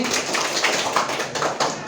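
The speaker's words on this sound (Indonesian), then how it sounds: "Tepuk tangan buat Kurniasi ya." A classroom claps for a student, a brief patter of several pairs of hands at moderate volume.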